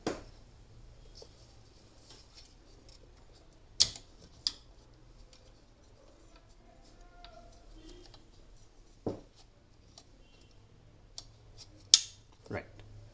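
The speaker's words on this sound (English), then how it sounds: "So with a click sound it will fix." A cassette snaps onto the head of a BT100S V2 peristaltic pump fitted with a DT10 pump head, giving a few short, sharp plastic clicks spread over a quiet background.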